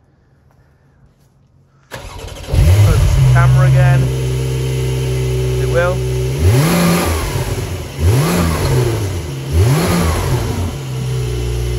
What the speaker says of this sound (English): start it up, give it a couple of revs